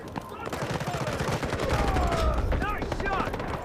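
Rapid bursts of automatic gunfire in the Delta Force video game's 24v24 warfare mode, crackling shots and fusillade overlapping with game voice chatter and a faint whistling sweep.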